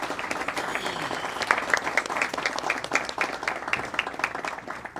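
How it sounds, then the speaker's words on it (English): Steady applause from an audience at a district attorney candidate forum for Colorado Judicial District 4, dense clapping sustained evenly across the whole stretch at moderate volume. "Can we get a round of applause for our candidates"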